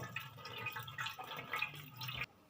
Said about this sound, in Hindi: थोड़ा सा ठंडा पानी डालेंगे इस पर।